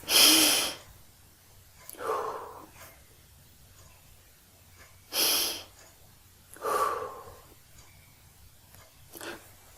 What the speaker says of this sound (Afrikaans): Haal gou 'n paar keer diep asem asseblief.